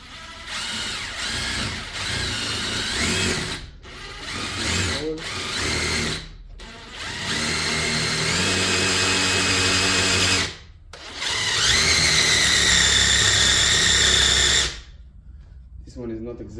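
Power drill whirring loudly in repeated bursts as it drives a self-drilling, semi-toggle drywall anchor rated for 200 pounds, with rising motor pitch and short pauses between runs, and a voice talking briefly.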